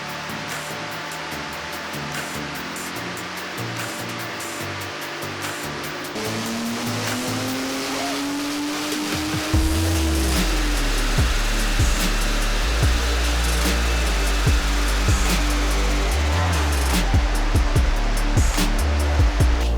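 A 2.8 project car running on a dyno, its engine revving up steadily from a lower whine to a loud, sustained roar with a broadband rushing noise.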